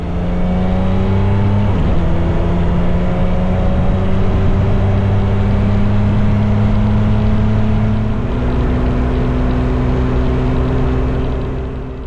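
A motorcycle cruises along a Montana highway out of Red Lodge, its engine droning loud and steady with constant wind rush and a couple of smooth shifts in pitch as it holds speed.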